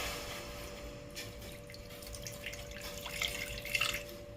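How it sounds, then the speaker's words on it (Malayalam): Water runs into a pot on a lit gas stove to cook ramen, a soft trickling and dripping over a steady background hum, growing slightly louder near the end. "ഇനി നമുക്ക് വെള്ളം ഒഴിക്കാവേ."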